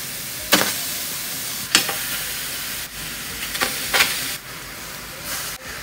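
Common fowl meat frying in a pan, a steady sizzle under broadband hiss broken by several sharp scraping stirs as the pieces are moved about, no talk.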